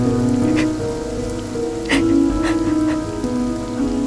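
Rain pours steadily onto a verandah and its surroundings, a close, continuous patter with a few sharper drops and splashes standing out above the wash.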